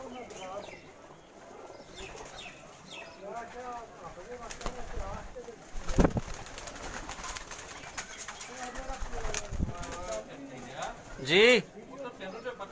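Pigeons coo in a rural farmstead courtyard, soft repeated rolling calls scattered through the scene at moderate distance, with someone talking over them and a brief sharper flutter or call near the end.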